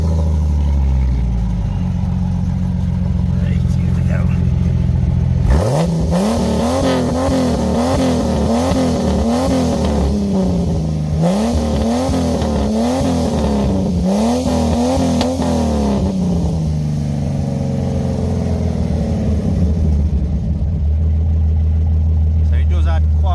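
Jeep XJ with a 4.0-litre straight-six and a 3-inch exhaust, idling steadily, then revving loudly in repeated rising and falling bursts before settling back to idle.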